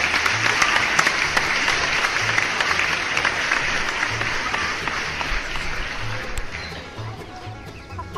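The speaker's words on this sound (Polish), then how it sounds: "za to dla Was wszystkich wielkie, ale to wielkie brawa." Loud, dense applause rolls on steadily for about eight seconds without a break, then eases off slightly toward the end.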